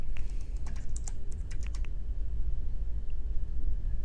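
Computer keyboard keys typed in a quick burst of crisp clicks during the first two seconds, a command entered on a server, then only a steady background hum.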